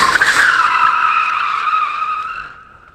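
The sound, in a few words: BMW E36 drift car skidding with tire squeal, e-brake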